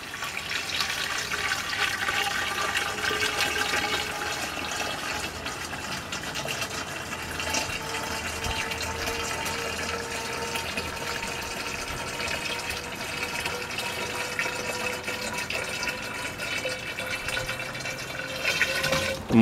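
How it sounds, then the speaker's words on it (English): Distilled water pours steadily from a bottle into a plastic pump-up sprayer, a continuous trickling and filling sound that holds evenly for nearly twenty seconds, alone and close. "I'm going to use this pump up sprayer, and I'm going to pour one bottle of this distilled water in first"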